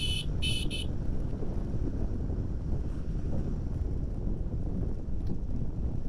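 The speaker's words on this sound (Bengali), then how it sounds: "বৃষ্টির ভিতরে বাইক রাইড করে একটা মজা আছে" A Pulsar 150 motorcycle is ridden through rain with strong wind, and a loud, continuous buffeting roar dominates throughout, opening with a few short high electronic beeps.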